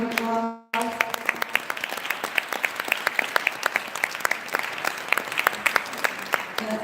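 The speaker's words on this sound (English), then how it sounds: "Please stand so we can give you a round of applause." An audience at a Women's International Day event at City Hall in New Haven applauds committee members, a dense, steady roomful of clapping that runs without a break after a short cut at the start.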